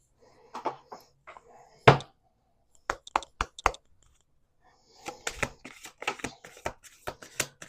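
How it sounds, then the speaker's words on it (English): An Autumn Fields Lenormand card deck is shuffled by hand in quick bursts of crisp riffling and tapping, with short pauses between rounds, close and fairly quiet. "We're going to use the Autumn Fields Lenormand deck by Hattie Thorne"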